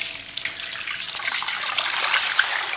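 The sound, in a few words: water running while washing pork hock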